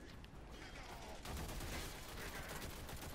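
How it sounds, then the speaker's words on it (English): Machine gun fire in the Warframe video game comes as a dense, continuous burst of rapid shots, quiet at first and then louder after the first second, lasting the whole clip. "Ah, I need my machine gun."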